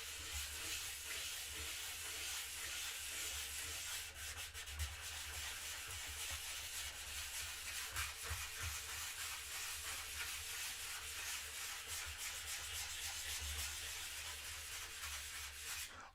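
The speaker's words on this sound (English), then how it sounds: "I apologize if it's like super loud from the sanding" Continuous sanding rasps steadily for the whole stretch, a dense, even scratchy hiss with slight rhythmic strokes and no talking.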